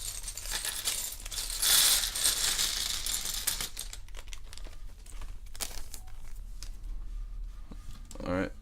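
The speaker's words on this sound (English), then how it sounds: "So I got a lot of different pieces in here. I'll just dump them out." Lego pieces dumped out of a bag onto a surface, a burst of loud plastic clattering and rattling followed by scattered clicks as pieces settle, with a voice talking at moments.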